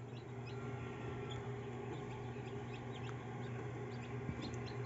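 Newly hatched chicks peep softly in an incubator, many small high calls scattered over a steady low hum, faint and close, with no talking.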